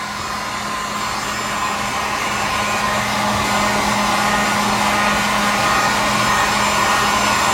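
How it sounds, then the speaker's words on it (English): A heat gun roars in a constant, loud, breathy whoosh, held steady for several seconds while it heats the adhesive on a Marshall 1960a speaker cabinet. "we're going to heat this, okay? We're going to heat it on both sides"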